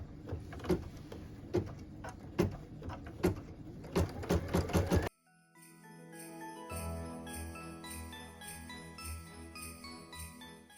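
Embroidery machine stitching a felt Christmas ornament: rapid rhythmic mechanical clacking of the needle for about five seconds, close and fairly loud, then it cuts to steady background music with no stitching.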